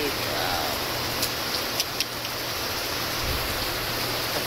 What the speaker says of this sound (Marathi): पाऊस लावलाय, रिकामा पाऊस लावलाय रे.